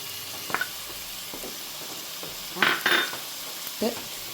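A close, even sizzle comes from an onion mixture sautéing in a pan for samosa filling, broken by a few spoon stirs and light metallic clinks against the pan.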